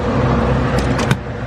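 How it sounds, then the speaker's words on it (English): A heavy truck rumbles past on a rainy logging road, a steady low engine drone with a brief bump and rattle near the end. "You hear that truck?"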